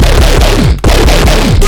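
A gritty, distorted Serum synth bass plays a repeating pattern of sweeping low notes, loud and continuous, with a brief dropout partway through.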